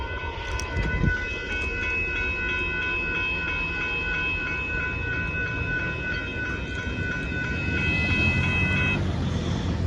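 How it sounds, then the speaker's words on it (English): A northbound Union Pacific coal train rolls past at close range with a steady rumble of cars, while its multi-tone horn sounds in a long sustained blast that cuts off near the end. "There goes a northbound Union Pacific coal train plus the horn show"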